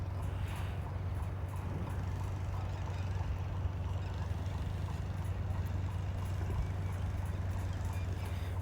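Two horses are ridden on a long outing after training, their hooves keeping up a steady, fairly quick clip-clop over a constant low rumble, moderately close and even throughout with no talking.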